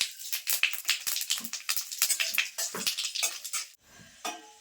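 Whole cumin, two bay leaves and whole garam masala are dropped into very hot ghee for vegetable fried rice. Close, crackling spits and pops come with quick clinks of a utensil on the pan, then a brief lull.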